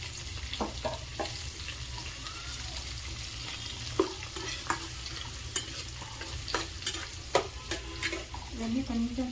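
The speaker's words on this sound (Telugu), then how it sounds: "ఫ్రై చేసేసుకున్నాం మంచిగా ఉల్లిపాయలు" Onions frying with green chilies and cumin seeds in a pan give a steady close sizzle, broken by sharp scattered clicks and scrapes as a utensil stirs them. No one speaks.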